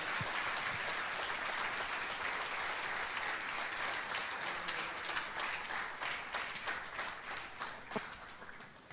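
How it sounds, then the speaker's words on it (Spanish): Congregation at an evening church service applauding in a steady, dense roar of clapping that gradually thins and fades toward the end, with a few louder individual claps. "Aplaude a nuestro Dios porque Él se lo merece"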